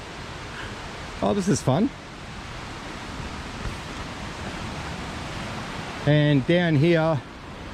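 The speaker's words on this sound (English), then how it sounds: "some waterfalls down there too, some cute ones" Small cascades of Ringtail Falls near old mining ground at Waratah, Tasmania, give a soft, steady rush of water at a distance, with a person talking briefly over it twice.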